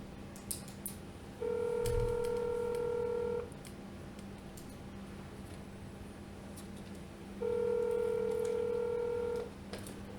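Telephone line tones sound during a cold call: two sustained, steady electronic tones about two seconds each, separated by a quiet pause, with faint clicks around them.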